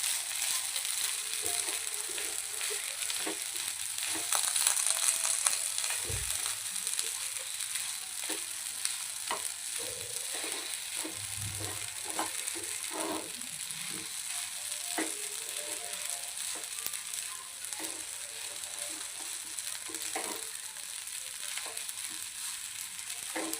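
Mini sago pearls stirred slowly in a pan for sabudana khichdi, giving a steady soft sizzle with light scraping and clinking of the spoon against the pan throughout, no talking.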